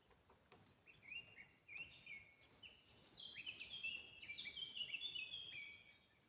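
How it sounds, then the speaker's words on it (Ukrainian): Small birds chirp and trill in quick, high bursts, fairly faint against a quiet outdoor background with no talking. "Пташки витьохкують, радіють новому дню."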